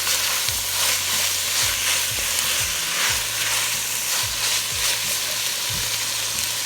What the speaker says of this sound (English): I'm going to add it to the pot to saute with the other rest of veggies